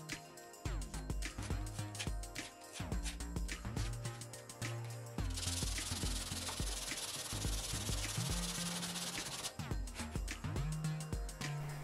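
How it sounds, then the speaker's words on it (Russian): Plywood being sanded by hand in a small workshop, continuous scratchy strokes with a rhythmic back-and-forth character and a bright hiss, close by, with no speech. "Немного шлифуем."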